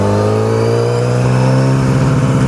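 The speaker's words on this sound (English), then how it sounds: "I love the deep tone of it, the deep rasp. It's a really great exhaust." A Yamaha R6 sport motorcycle with an aftermarket exhaust revs loudly and steadily, its deep raspy engine tone rising slightly in pitch, heard up close and alone.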